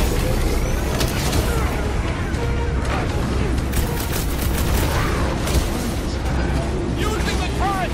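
Turret fire in Guardians of the Galaxy during a large battle, with rapid booming blasts and explosions packed densely across the whole stretch. Loud and close, with voices and action noise layered over it.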